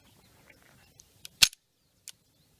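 A Beretta Bobcat pistol fires with one sharp, close crack, followed by a few light mechanical clicks and a fainter snap, with quiet between the sounds.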